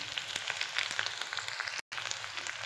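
Chopped onion, capsicum and curry leaves fry in oil for Schezwan veg fried rice, giving a close, crackling sizzle with bright pops and a brief cut of silence partway through.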